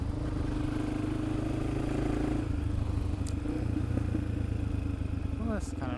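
Motorcycle ridden along a road to test a troublesome clutch, the engine droning steadily with gear changes and wind, while a rider talks over it.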